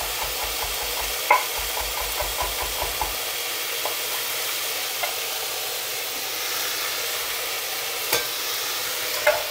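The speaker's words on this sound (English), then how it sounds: "I'm just going to brown off the vegetables to get the most flavor" Vegetables browning in a pan, a soft, constant sizzle with a few scattered clicks and knocks from stirring, plus a low rhythmic hum in the first few seconds.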